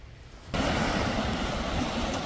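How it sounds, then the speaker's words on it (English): Ocean surf breaks on a New Jersey shore: after a quiet start, a sudden loud rush of crashing waves fills the rest of the clip, steady and close with no talk. "There's beautiful waves."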